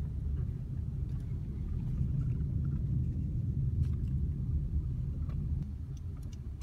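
A car rolls slowly forward toward a stop sign at a driving-school lesson, its low engine and road rumble steady and close throughout with no voices.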